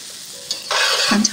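Garlic shrimp fried rice with scallions stir-fried in a wok: a quiet hiss that jumps into a loud, bright sizzle as the spatula tosses, with a couple of clinks and scrapes.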